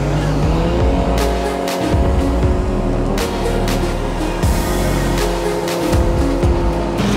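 A Fregat 550 boat with a Hidea outboard motor runs steadily on a river in Altai, its loud continuous engine drone rising and falling as the boat approaches, with no talk over it.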